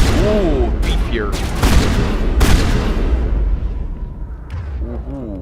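Heavy shotgun fire in Mass Effect Legendary Edition, several booming blasts spaced a second or so apart amid game effects, with a voice talking over parts of it.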